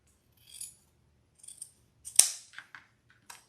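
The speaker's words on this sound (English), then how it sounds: "I'm going to cut from the fold to the point." Scissors snip through folded ribbon, making a few faint close cutting rasps and then one sharp louder snap followed by short clicks in near silence.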